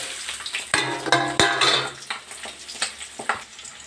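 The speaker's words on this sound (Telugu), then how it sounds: "తాలింపు అయింది, ముక్కలు వేస్తున్నాను" Squeezed bitter gourd pieces drop into a pan of hot tempering and sizzle, with a spoon clattering against the metal in several sharp stirring knocks over the steady frying hiss.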